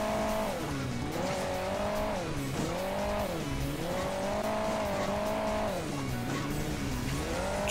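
Car engine in the mobile racing game Hill Climb Racing 2, a continuous buzzing motor whose pitch repeatedly rises and dips as the throttle varies over hilly terrain, steady and loud, with no talk.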